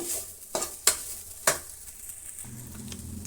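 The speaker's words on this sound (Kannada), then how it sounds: "ಎಲ್ಲ ಮಿಕ್ಸ್ ಮಾಡೋಣ ಇದು ಒಂದು ನಿಮಿಷ ಫ್ರೈ ಆಗಲಿ" Okra with red chilli powder frying in a pan while being stirred, a soft continuous sizzle broken by a few sharp scraping clacks of the utensil against the pan, then a low steady hiss.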